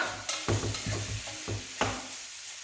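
Ingredients for carbonade beef stew with amber beer are stirred in a pan, giving repeated close scraping strokes at an uneven rhythm over a low, steady sizzle.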